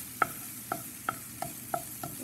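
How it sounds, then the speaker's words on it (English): Kale cooking in a pan: a faint background sizzle with six evenly spaced, ringing taps of a utensil against the pan as it is stirred. "I'm going to put in the kale, let it cook a little bit"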